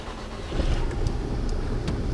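A manual car's engine cranks and catches, settling into a steady, moderately loud idle that holds to the end, with a few brief clicks and ticks above it.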